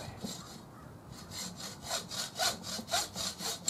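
A hacksaw cuts with rhythmic back-and-forth rasping strokes, about eight of them, growing steadier and louder, close up with no voices.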